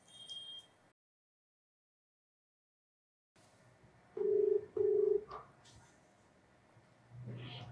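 Telephone call being dialed: a brief faint sound, then silence, then two short steady electronic tones in quick succession, followed by soft clicks and low room noise.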